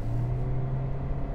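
A Toyota C-HR 1.8 Hybrid engine under hard acceleration gives a steady, loud, low droning hum with no talk over it.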